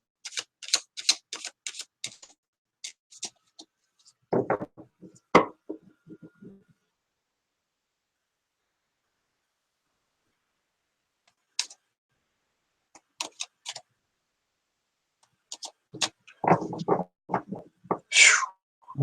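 Tarot cards are shuffled from the bottom of the deck in quick clicking, flicking bursts, loud and close, with long silent gaps between shuffles.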